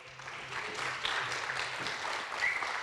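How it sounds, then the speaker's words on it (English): Conference audience at a software craft event clapping to welcome a speaker onstage, a steady wash of applause from a sizable crowd, sustained and fairly even throughout. "let's welcome Ian to the stage with a big round of applause"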